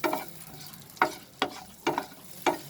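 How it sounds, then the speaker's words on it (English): Garlic cloves fry in butter over a medium flame in a pan, with faint sizzling under four distinct stirring scrapes that come at roughly half-second gaps. They are close, moderately loud, and no one speaks. "I will fry this with butter"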